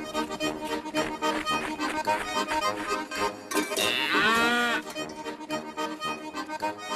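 A cartoon cow gives one loud, drawn-out moo over a busy animated music score, rising clearly above the accompaniment midway through.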